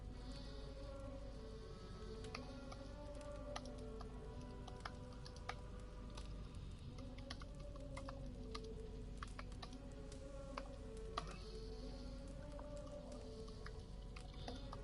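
Quick, steady typing on a computer keyboard during a live-streamed Assassin's Creed Valhalla session, with a continuous patter of light clicks and no speech.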